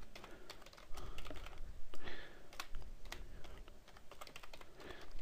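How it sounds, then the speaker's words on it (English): Fingers tap out a quick, irregular string of keystrokes on a computer keyboard, close and fairly quiet, with brief pauses between bursts and no talking. "type in your name, then type in your email address"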